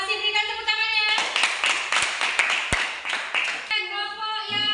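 An audience in a school group-presentation session claps for a group that has just finished presenting: a short burst of dense clapping in the middle, with speaking voices before and after it.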